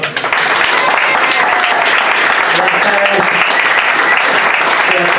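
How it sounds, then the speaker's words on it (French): Audience at a stand-up comedy show breaking into loud, sustained applause, dense clapping with a bit of crowd noise that holds steady throughout without letting up. "Bien sûr, pour vrai, on applaudit déjà."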